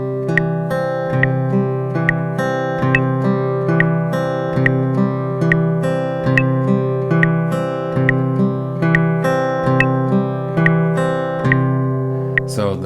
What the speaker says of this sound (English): 70 beats per minute, and we're going to alternate the thumb and alternate between the index and the middle finger